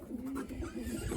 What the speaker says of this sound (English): I don't know what to make of this pigeon